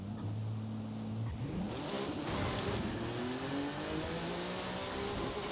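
A car engine in Forza Horizon 5 accelerating hard while held in a wheelie, its steady rising drone climbing in pitch through the gears with one shift break early on, loud and continuous with no talk.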